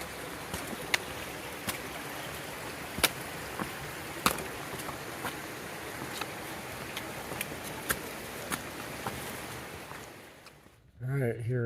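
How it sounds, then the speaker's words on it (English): Jones Falls, a waterfall beside the Appalachian Trail, roars in a steady broadband rush dotted with sharp clicks and splashes, dipping briefly near the end before the rush returns. "we took a little side trail to check out this waterfall"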